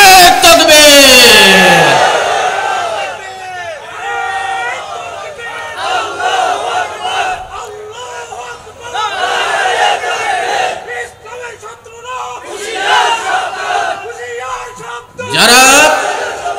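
A large crowd shouts the Nara-e-Takbir slogan in loud, rising bursts of massed voices. The call-and-response chant repeats several times, and the last surge is especially loud.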